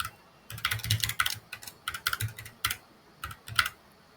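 Typing an email on a computer keyboard, a steady patter of close, crisp key clicks in short bursts with brief pauses between them, heard alone without talk.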